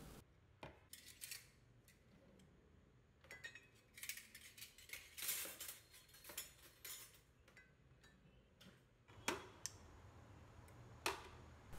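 Washed dishes and steel vessels are stacked away in a home kitchen: faint, scattered clinks and clatters of metal and glass set down one after another, with quiet pauses between, and no voices.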